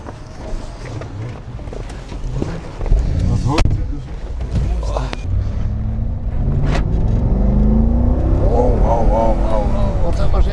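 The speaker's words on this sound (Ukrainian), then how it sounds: "машинка їде файно" A Mercedes G-Class SUV drives along with a steady, loud engine and road rumble that rises in the second half, while people talk inside the cabin.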